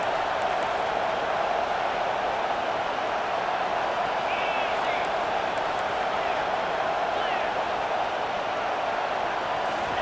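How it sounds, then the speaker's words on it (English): A home crowd roars in a steady, loud wash of noise during a third-down play in a football video game, sustained without a break from start to finish. "Here comes this home crowd as the defense tries to get off the field on 3rd down"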